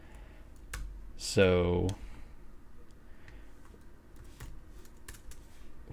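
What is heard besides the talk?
typing on a computer keyboard into a search bar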